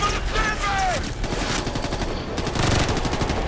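Sustained machine gun fire in the Ghost Recon Future Soldier video game, fast and continuous bursts filling the scene at close range, with a brief whistling sweep early on.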